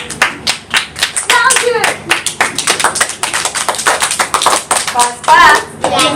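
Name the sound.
class clapping for a student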